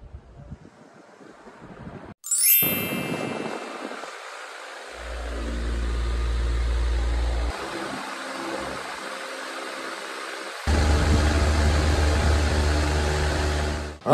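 A metal floor fan switched on to low speed produces a steady, close whoosh of moving air with a low rumble, swelling louder partway through as the airflow buffets the microphone.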